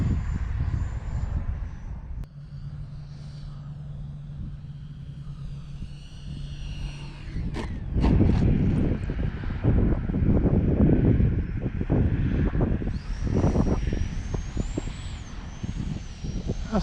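A FlyFans L-39 64mm EDF RC model jet whines and roars as it passes, growing louder midway into a rushing, turbulent blast before a rising whine returns.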